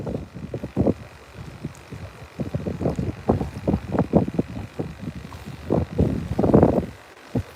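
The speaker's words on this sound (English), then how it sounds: "it's pretty windy out here today." Gusty wind buffeting the microphone at a saltwater bay in Bayside, Texas during a fishing outing, coming as irregular low rumbling bursts that rise and fall, loud and close.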